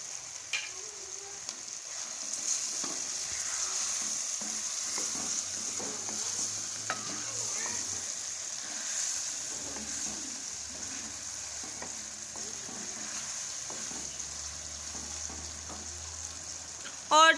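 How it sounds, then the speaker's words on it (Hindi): Tomatoes fry in a karahi pan with onions, ginger-garlic and potatoes for an Afghani potato karahi. A soft, steady sizzle runs under intermittent stirring and scraping, with a few brief clinks and a louder clatter at the end. "और टमाटरों को अच्छी तरह से भून लेंगे"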